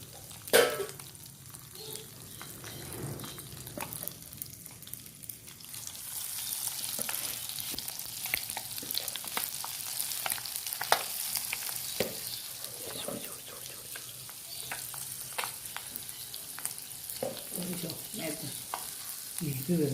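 Varaal fish pieces frying in a pan make a steady, close sizzling hiss that starts quieter and swells after a few seconds, dotted with sharp crackles and pops.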